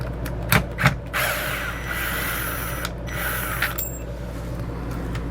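Screws being removed from a rooftop air conditioner on a 2010 Fleetwood RV, heard as a steady close whir of a power driver with a few sharp clicks and knocks near the start.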